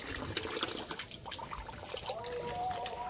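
Water runs from a farm pipeline into a trough for cattle, a steady filling trickle heard close by, with the pitch rising toward the end, while voices and animal stirrings sit in the background.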